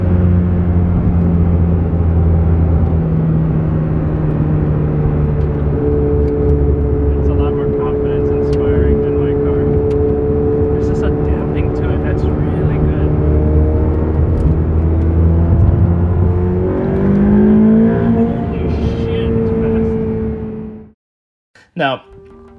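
Ferrari 488 Pista engine at full throttle, a loud rising tonal howl climbing steadily from mid revs toward the 8,000 rpm limiter before cutting off abruptly, with a short burst after.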